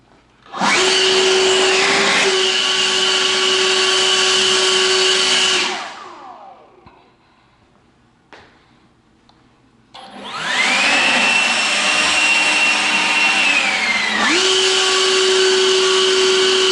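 A Kobalt 80-volt 800-cfm leaf blower running, two loud close bursts of high-pitched whooshing whine, each spinning up, holding steady for a few seconds, then winding down, with a quiet gap between.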